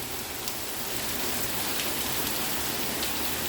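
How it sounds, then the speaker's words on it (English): Heavy rain pours steadily outdoors in St. Catherine, Jamaica, a dense, continuous hiss of drops striking surfaces with no break, loud and close throughout. "Heavy rain going on outside."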